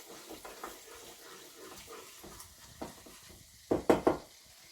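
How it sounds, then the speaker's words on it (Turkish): Soft sizzling of oil in a pan with scraping stirs while frying for bulgur pilaf, then a few louder metallic clanks of a utensil against the pot near the end. "Kızartırken yağımızı da iyice karıştıralım ki dibine tutup yanmasın."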